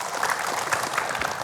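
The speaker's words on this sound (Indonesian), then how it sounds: "tepuk tangan ya buat ibu" Brief burst of audience clapping for a woman in a studio crowd at a religious talk show, a short dense patter of hands heard close.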